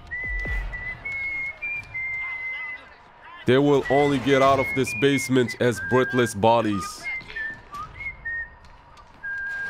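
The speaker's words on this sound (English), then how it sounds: "I'm whistling like Negan, dude." A person whistles a tune while playing The Texas Chainsaw Massacre game, clear melodic whistled notes running across most of the clip over loud in-game speech, with a voice talking near the start.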